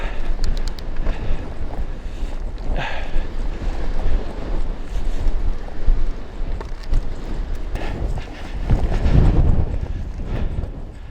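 Strong wind on the Granite Way trail buffeting the microphone: continuous loud rumbling gusts with rising and falling bursts, close and alone, no talking.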